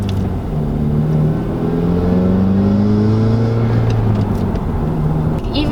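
A 2015+ Subaru WRX fitted with a Cobb intake and Stage 1+ tune accelerates loudly and close by, its engine note climbing in rising sweeps with a whooshing intake sound over a few seconds.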